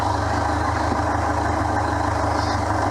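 A rescued abandoned car's engine idles slowly at around 850 rpm, a steady, loud low rumble with an even pulsing beat and no voices.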